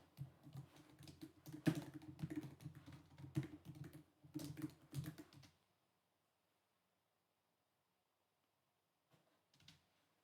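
Someone types a command on a computer keyboard: quick, close clicking keystrokes for several seconds, then silence, then a short final burst of taps.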